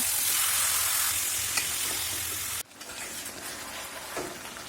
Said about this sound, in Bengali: এবার মাংসটাকে আমরা খুব ভালোভাবে কষাতে থাকবো